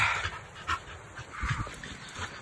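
Dogs pant quickly nearby with a few soft whimpers mixed in, fairly faint over light background noise.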